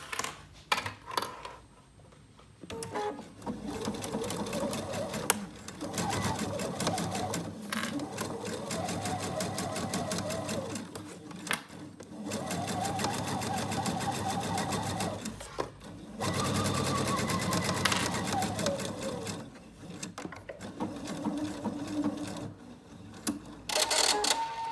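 A domestic sewing machine stitches a fabric face mask in several long runs, its needle mechanism whirring and chattering close by, separated by brief pauses and small clicks as the fabric is repositioned.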